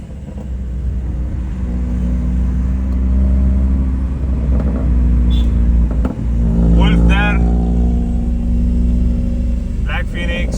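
A modified Honda Civic at a car meet idles and revs with a loud, deep exhaust rumble that swells in steady surges, close by, while people talk over it.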